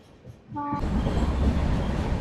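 A passenger train rolls along in northern Bengal, a brief horn note giving way to a steady, loud rumble of carriages on the rails.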